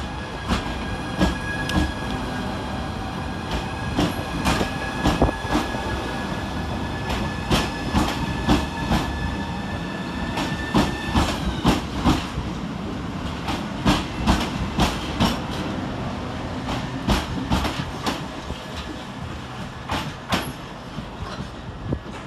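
A Southeastern Class 395 high-speed train pulls out of Strood station, with loud rhythmic wheel clatter over rail joints, a rising electric motor whine and steady rolling rumble, close and without speech.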